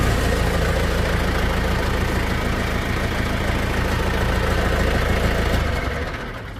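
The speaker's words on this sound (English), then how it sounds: "Perfect sounding Yanmar diesel engine." A 2007 John Deere 990 tractor's Yanmar diesel engine idles with a steady, loud, close rumble and faint knocking, then dies away slightly at the very end.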